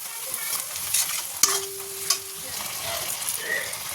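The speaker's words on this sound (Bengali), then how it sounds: "এবার এটা দিয়ে দেবো নুন অল্প পরিমাণে নুন হলুদ লঙ্কা গুঁড়ো আর এটা একটু ভেজে নিই" Onions fry in a pan with salt, turmeric and chilli powder, a continuous near sizzle punctuated by a few sharp utensil clinks and stirring scrapes, with no talking.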